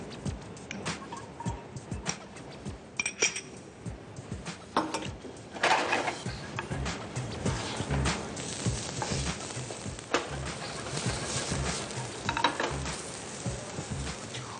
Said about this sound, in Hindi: इसमें थोड़ा सा ऑयल डाला जा रहा है और इसमें हम डालेंगे थोड़े से स्लाइस अनियन